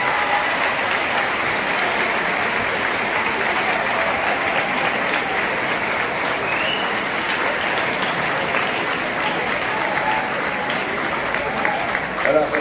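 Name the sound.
audience applauding young council members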